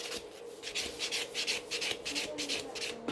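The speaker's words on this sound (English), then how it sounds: "go with the buffer, and just buff and smooth out any surface. So I'm just buffing it nice all the surface." A nail buffer rubs over a gel nail surface in quick back-and-forth strokes, a soft rasping scrub that repeats steadily and close up for about three seconds.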